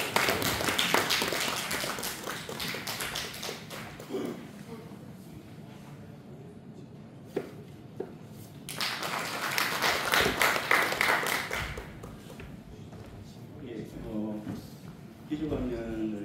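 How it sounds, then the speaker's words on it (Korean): Audience applause at an academic conference on the 1871 Yeonghae Donghak Revolution rises in two bursts of clapping in a hall, with a person speaking over the quieter stretches between and after them. "힘찬 박수 부탁드리겠습니다."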